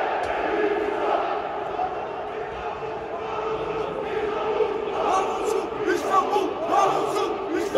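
Football club supporters chant at a Bursaspor congress in a hall, producing a dense, continuous roar of many voices with rhythmic swells throughout.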